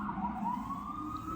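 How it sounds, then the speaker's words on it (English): An emergency siren passing outside on a rainy day wails with a slowly rising tone, moderately distant and steady over a low background rumble. "Sirens seem to be a delay tactic also."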